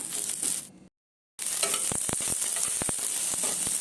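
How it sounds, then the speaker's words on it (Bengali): Sweet potato lightly frying in a pan, a close steady sizzle with a brief silent gap, then scraping stir strokes clicking against the pan over the hiss. "মিষ্টি আলু আমি হালকা ফ্রাই করে নিলাম"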